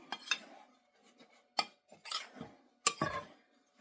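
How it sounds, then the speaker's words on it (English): Peach cobbler ingredients are mixed in a bowl, giving sparse, quiet clinks and scrapes of a utensil against the bowl spread across a few seconds, separated by near silence. "let's mix this one up a little bit"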